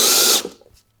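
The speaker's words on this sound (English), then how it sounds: "We start drilling." A power drill bores through a finished wooden cabinet, a loud, close whirring grind that cuts off sharply after a moment, leaving a brief mechanical rattle as it winds down.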